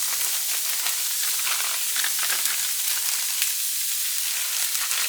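Chopped onions sizzle steadily in hot bacon grease in a pan, a continuous close, even hiss and crackle throughout with no talking.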